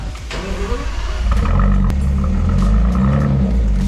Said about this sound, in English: She runs and drives, so we'll insert a clip of it firing up.